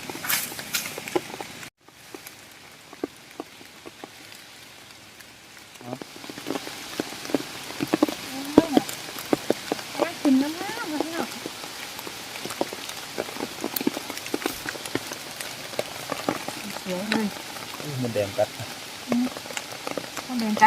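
Heavy rain pours down on a mushroom-foraging outing for termite mushrooms, a constant patter of drops striking nearby surfaces with sharp, close splatters, after a brief quieter lull near the start; a voice is heard briefly under the downpour.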